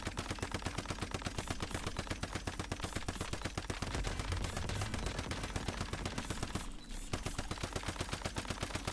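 Rapid automatic gunfire in a video game, aimed at the arm of the boss Manibus the Nightmare, a steady, evenly spaced stream of sharp shots with only a brief break.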